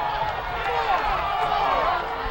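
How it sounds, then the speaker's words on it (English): Steady crowd noise from spectators at a boys' high school championship soccer match between Bel Air and Patterson Mill, a continuous loud murmur and cheering filling the whole moment, with a commentator's voice mixed in. "Crowd getting into the ball game early"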